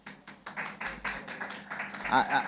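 Sparse clapping at a press briefing in Montego Bay. A few hands tap out scattered, uneven claps rising over about two seconds, close by and moderately quiet, with some voices mixed in.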